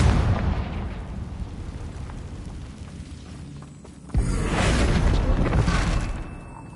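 Blasting spell explosion in the video game Hogwarts Legacy: a sharp boom near the middle of the clip gives way to a loud, rumbling burst that fades slowly, over steady game background noise.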